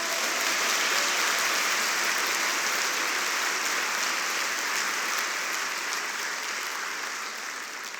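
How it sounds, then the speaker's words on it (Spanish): Church congregation applauding, a dense, steady wash of many hands clapping together, loud and sustained for several seconds before easing slightly near the end, with no talk over it. "¿Cuánto le dan un fuerte aplauso al Señor?"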